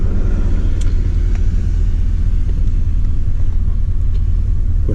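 A Chevrolet Silverado truck's engine runs at a steady idle, a loud, constant low rumble heard up close with no speech.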